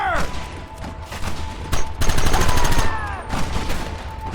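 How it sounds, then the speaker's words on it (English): A Red Dead Redemption shootout erupts in loud, rapid gunfire, with dense volleys of close shots cracking in quick bursts and overlapping reports, some ringing echoes trailing between them. "Open fire!"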